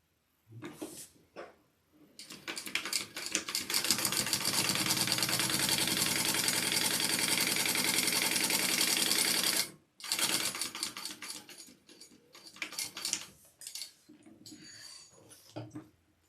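A sewing machine stitches bag fabric in one long steady run of rapid mechanical clatter, followed by shorter bursts with brief pauses between them, close and fairly loud.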